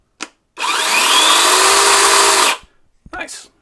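A VEVOR 20V brushless 12-inch cordless chainsaw spins up and runs for about two seconds with a high, even whine, then cuts off abruptly and winds down, with brief clicks before and after.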